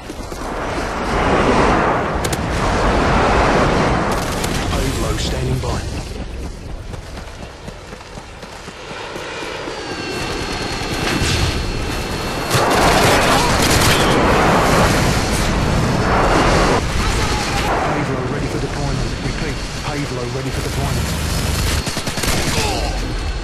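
Call of Duty Harrier airstrike explosions boom and rumble in heavy, sustained waves, mixed with rapid gunfire and chaotic battle noise, loud throughout.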